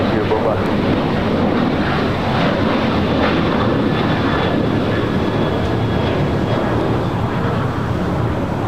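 An Asiana Airbus A350 arriving at LAX as flight 204 from Seoul makes a loud, continuous engine roar that holds steady throughout, with a faint whine above it.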